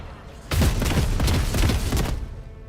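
A dense volley of gunfire from the Rogue Trader video game, rapid loud bursts running for about a second and a half over a steady background, with no talk.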